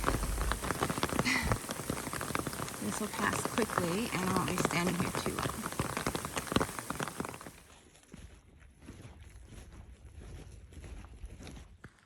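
Hail and rain pattering on a tree and the ground around it on a trail, a dense close drumming that drops to lighter dripping partway through, with someone talking over it.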